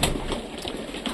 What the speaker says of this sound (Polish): Karmię gołębie